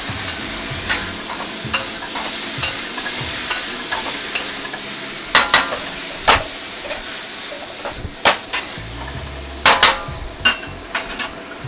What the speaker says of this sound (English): This is my ground beef going back to the wok.